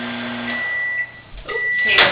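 A microwave oven cooking meatloaf in a mug hums steadily with a faint electrical whine, ending with a short beep.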